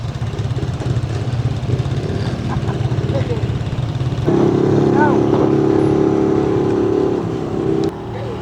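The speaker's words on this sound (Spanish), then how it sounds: "Miren cómo la moto sube acá, la barcaza." A motorcycle engine drones steadily, then shifts to a louder, higher rumble as it climbs onto a barge on Flores island, Petén, Guatemala, with background chatter mixed in.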